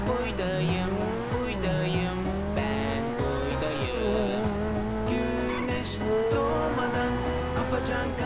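A race car in a video game skids and squeals its tires while boosting with nitro over ramps and barriers, the engine revving continuously under background music and a voice speaking.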